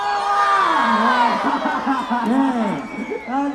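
A crowd at an outdoor cooking event in Padang, with a cook preparing jengkol curry, cheers and shouts loudly and continuously, many voices whooping together and close up.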